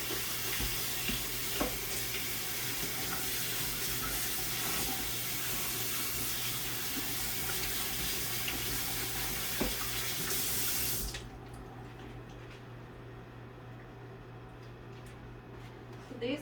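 Tap water runs steadily into a kitchen sink as freshly cut potatoes are rinsed, a dense continuous splashing rush that cuts off abruptly near the end, leaving quieter room tone.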